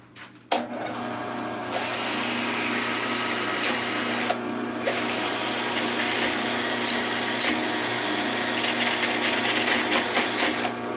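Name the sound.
sanding rubber while it turns on a lathe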